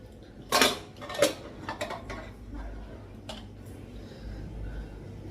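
A pressure cooker lid is opened in a home kitchen: two sharp metallic clanks close by, then lighter rattles and clicks over quiet room hum.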